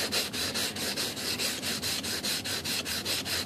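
A sanding block works back and forth along a model Airbus A380 flap, producing a steady rhythmic rasping stroke roughly five times per second, close and continuous with no talk.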